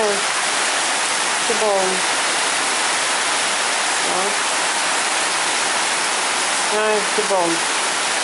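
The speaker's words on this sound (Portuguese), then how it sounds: "maravilha a chuva, né?" Steady rain pours down on a hot afternoon, a dense continuous hiss close by, while someone speaks softly over it.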